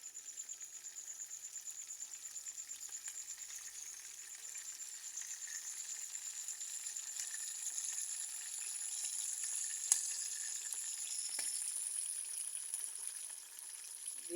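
Fish sizzles and crackles steadily as it fries in an electric cooker, a continuous bright hiss with small pops, heard up close and alone without talk.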